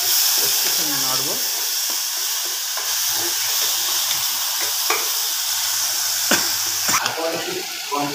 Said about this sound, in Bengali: লাল হয়ে যাওয়ার পর পেস্ট করে রাখা পেঁয়াজটা দিয়ে দেবো।